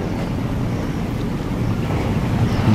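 A fishing trawler motors across open water with a steady, loud, low engine drone mixed with wind and wave wash, continuous throughout with no talk.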